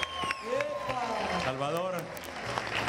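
Dense audience applause fills the hall at the closing of the Teletón Honduras 2019 telethon, with people speaking and calling out over the steady clapping.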